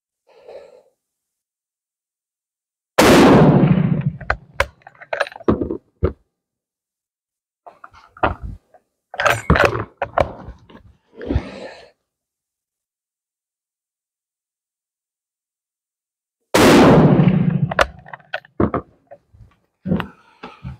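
A Dutch Mannlicher rifle fires at a shooting range: two loud, sharp reports about thirteen seconds apart, each with a short decaying tail, and quieter clicks and handling noises between them.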